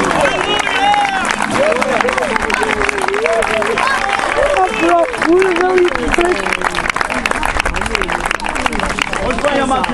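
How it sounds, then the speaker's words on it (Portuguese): A church congregation at a baptism service applauds loudly, and the dense, continuous clapping of a crowd mixes with many raised voices and cheering throughout. "Vamos dar um aplauso bem forte"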